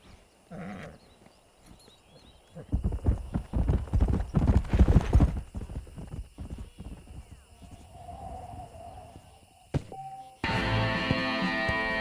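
Horse hooves clip-clop at a walk from a stallion in the video game Red Dead Redemption, a steady close clatter that builds and then fades, with brief talk at the start and a burst of game music at the end.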